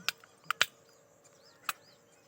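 A crab shell is cracked apart by hand while preparing crab curry: four sharp, close snapping cracks, the middle two in quick succession, with quiet between them and no talking.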